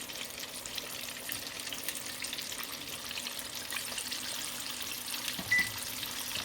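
Salmon tenders fry in hot oil in a heavy-bottomed pot, giving a steady, quiet, even sizzle throughout with one small click near the end; no one speaks.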